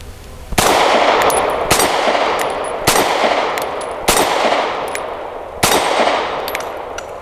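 Five sharp pistol shots from a Grand Power P1 Ultra firing Freedom Munitions ammunition, spaced roughly a second apart, each a loud crack followed by a long ringing reverberant tail, with no talking.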